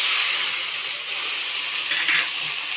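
White mustard and poppy seed paste going into hot oil in a wok with nigella tempering, for a katla fish curry, a loud, dense, continuous hiss close by.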